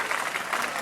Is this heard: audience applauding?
yes